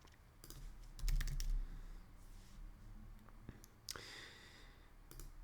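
Fingers type random values into a web form on a computer keyboard, producing quiet, irregular clusters of key clicks with short pauses between bursts and no talking.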